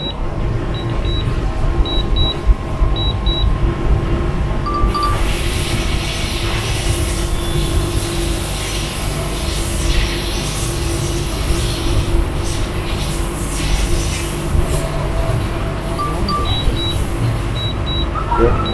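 A steady motor drone with a continuous whine from a DJI Mavic Mini 1 drone flying overhead, over constant broadband noise with no gaps.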